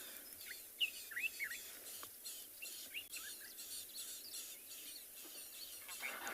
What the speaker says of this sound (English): Listen to all those little birds calling, all the little rattling sticklers.